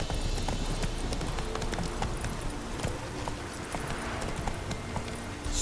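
Roach the horse gallops in The Witcher 3 video game, with fast rhythmic hoofbeats that carry on steadily and evenly throughout.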